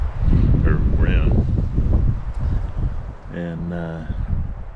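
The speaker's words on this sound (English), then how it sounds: "it's pretty windy" Strong, blustery wind on a mountain above a valley in Prescott National Forest, Arizona, buffets the microphone in a constant low rumble, with a voice talking faintly underneath.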